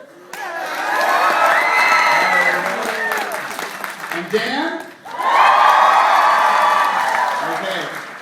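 A home crowd in a gym cheers and applauds loudly at a fencing demonstration, a sustained roar of shouts and clapping that dips briefly, then surges again, with voices talking over it.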